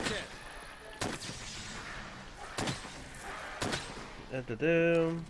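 Normal shots from a bowgun in Monster Hunter World, several sharp separate blasts spaced about a second apart over in-game ambience, followed by a short tonal chime at the end; a voice talks over part of it.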